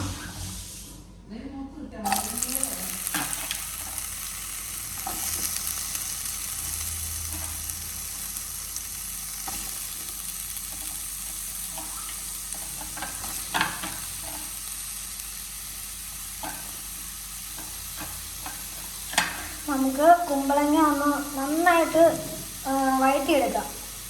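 Chopped ash gourd frying in ghee sizzles steadily in a pan, with occasional stirring clinks, while someone talks over it and her voice grows louder near the end.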